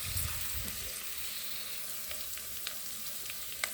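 Beef frying with cabbage in a hot pan, a steady close sizzle with faint scrapes and stirring clicks throughout.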